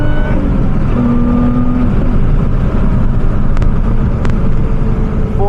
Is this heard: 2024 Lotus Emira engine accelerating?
yes